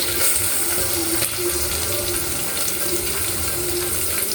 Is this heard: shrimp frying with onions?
yes